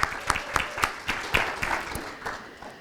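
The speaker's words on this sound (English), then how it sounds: "If we could give her a round of applause." Audience applause at a community climate solutions event: a crowd claps steadily in a room, dense and even at first and fading slightly toward the end.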